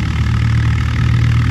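A Swaraj 855 tractor engine with a newly fitted copper radiator runs at a steady, loud, close-up idle. Its low rhythmic throb is constant throughout, with no voices.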